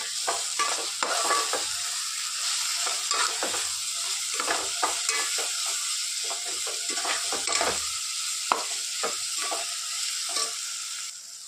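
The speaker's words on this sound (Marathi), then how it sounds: "आता टाकत होता अद्रक लसूण कोथिंबीर याची पेस्ट" Onion and chili fry in oil with a ginger, garlic and coriander paste, giving a continuous close sizzle. A spoon scrapes and stirs the pan in repeated strokes throughout, and no one talks.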